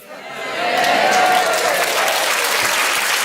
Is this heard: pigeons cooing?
no